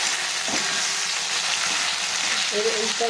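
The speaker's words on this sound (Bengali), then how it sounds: "জিরে আদা বাটাটা দিয়ে এবার আমরা খুব ভালোভাবে ভাজা করে নেবো।" Cumin and ginger paste fry with onions in hot oil for a poi saag curry, giving a dense, steady, close sizzle with no pause across the short stretch.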